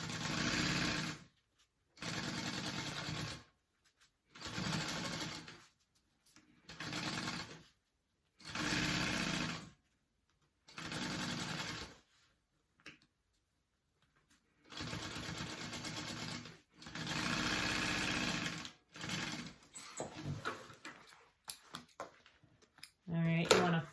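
Sewing machine stitching a 3/8-inch tote bag seam in repeated close bursts of motor whir separated by brief silences, with some handling clicks near the end.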